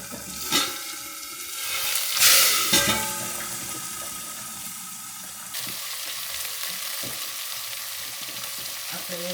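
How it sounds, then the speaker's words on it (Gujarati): Mixed vegetables frying in a hot pan for vegetable biryani, a steady close sizzle with clattering stirring scrapes and a few louder bursts early on, no talking. "તો આપણે આ વેજીટેબલ ધીરે ધીરે બધું વઘારી નાખીએ."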